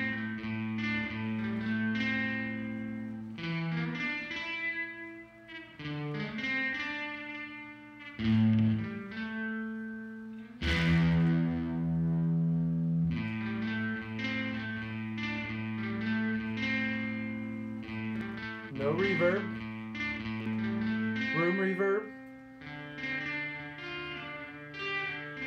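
Electric guitar played through a Behringer DR600 digital reverb on its room setting, a long run of sustained chords and picked notes with a roomy wash and some drive, loud and close, with no voice.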